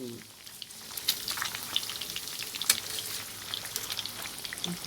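Boiled, marinated pork belly frying in fish sauce in a pan, a steady soft sizzle with scattered popping spits and crackles throughout, fairly quiet and close.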